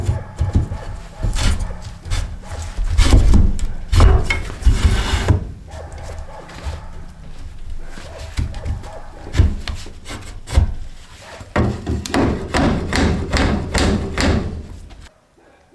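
A scrap wood piece being forced into place under a mobile home floor with rotted boards, scraping and rubbing wood against wood with repeated thumps and knocks, loud and close, in uneven bursts.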